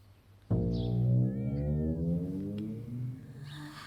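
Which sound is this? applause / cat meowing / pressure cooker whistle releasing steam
cat meowing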